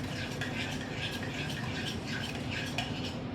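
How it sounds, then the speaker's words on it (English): Butter and sugar being mixed by hand in a bowl for pumpkin cupcakes, with a steady scraping and clinking of utensil against the bowl running continuously at close range, no voices. "I'm going to mix the sugar up and the butter in it really quickly"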